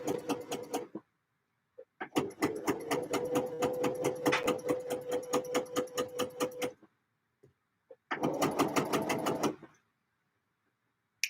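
A sewing machine stitching skirts runs in three rapid, evenly pulsed bursts with short pauses between them, close and fairly quiet, with no talking.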